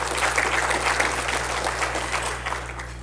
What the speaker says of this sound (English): Now, yeah, you can clap to that.